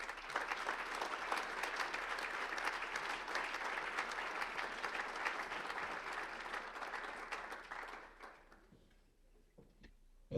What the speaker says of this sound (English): So I'll give her a nice round of applause.